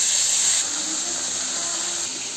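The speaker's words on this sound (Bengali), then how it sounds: "এক করে মাছগুলোকে আমি ভেজে নেব।" Salted, turmeric-rubbed fish frying in hot mustard oil for a Bengali papaya-potato fish curry, a loud steady sizzle and hiss close by that eases slightly partway through.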